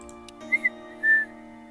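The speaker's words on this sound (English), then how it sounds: "Elle turns back to the birds and whistles softly." Soft, airy whistling to birds in the game Hush Hush, two short chirped notes followed by a longer held tone, heard alone over a quiet sustained musical background.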